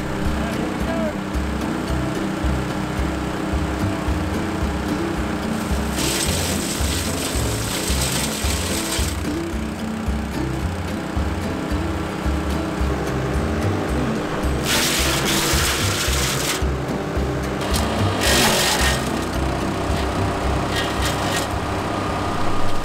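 A Hansa C7 wood chipper runs with a loud, steady engine drone, broken by several harsh grinding bursts as branches are fed through and chipped up close.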